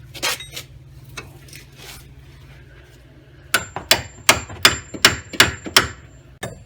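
A hammer drives a chisel into a Ford Escape steering knuckle, starting with a few scattered taps, then a run of about eight sharp, ringing metallic strikes in quick succession, close and loud.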